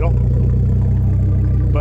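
An Audi RS3 with a modified AWE Track exhaust, already warmed up, runs with a loud, steady, deep pulsing rumble heard close by, with a faint voice at the very start and end.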